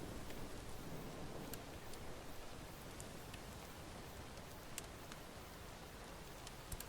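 Rain falling on a forest in a horror survival video game, a soft, steady hiss of rainfall with scattered faint drip ticks, quiet and continuous with no talking.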